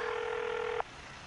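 A single electronic telephone ring tone sounds steadily, then cuts off abruptly, leaving faint background hiss.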